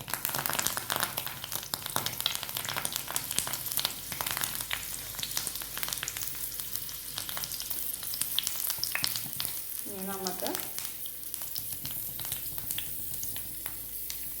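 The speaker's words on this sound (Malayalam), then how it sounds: "എണ്ണ ചൂടായതിന് ശേഷം നമുക്ക് 2 കറിവേപ്പില അതിൻ്റെ അകത്തേക്ക് ഇടാം." Curry leaves sizzle in hot oil with a dense, crackling, continuous fry that stays close and even throughout, with faint stirring and no voices.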